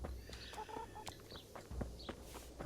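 Chickens cluck at a coop in Kingdom Come Deliverance, short calls and chirps popping up several times over a low rumbling ambience.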